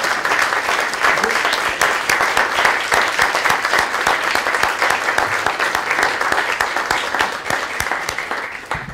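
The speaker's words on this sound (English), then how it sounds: "Let's give a round of applause." An audience at an abbey lecture gives a round of applause: dense, steady clapping from many hands that fills the room, holding loud for the whole stretch before easing slightly at the end.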